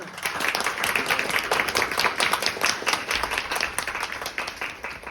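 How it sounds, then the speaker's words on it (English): Audience at a peacemaking and mediation lecture series applauding the speakers, many hands clapping in a steady crackling patter at moderate, fairly even loudness, alone without talk. "A round of applause, perhaps?"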